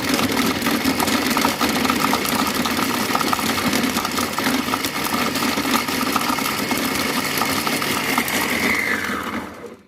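A Cookomix Compact Cook Pro food processor chopping chicken on speed 7 for a flan, a loud steady motor whir with blade clatter running continuously for about ten seconds before stopping abruptly.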